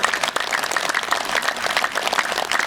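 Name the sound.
loud clapping by yoga day crowd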